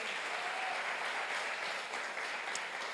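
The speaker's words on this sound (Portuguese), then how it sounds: "Aplauda ao Senhor por isso" Church congregation applauding, a continuous even crackle of many hands clapping, moderately distant and steady for the whole stretch, with no voices above it.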